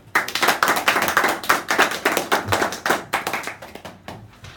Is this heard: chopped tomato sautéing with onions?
no